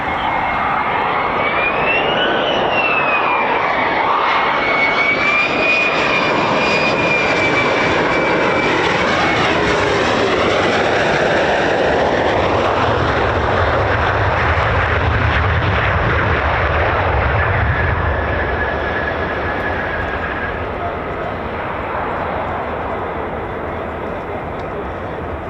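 Military fighter jets, F-15s and F-35s, landing at RAF Lakenheath, a loud continuous engine roar with shifting whine that swells and fades as aircraft pass, with people talking throughout.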